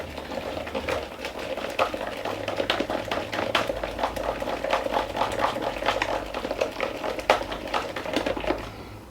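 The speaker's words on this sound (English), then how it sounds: "I'm just going to mix this until it's lump free, until all the flour is incorporated into the milk and the eggs" A batter of flour, milk and eggs is mixed briskly in a bowl, rapid repeated tapping and clicking strokes in a steady rhythm that lasts throughout at moderate loudness.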